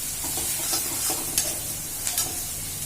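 Spices and garam masala powder sautéing in a hot pan, a dense close sizzle with a few brief scrapes of a stirring spoon, no one speaking.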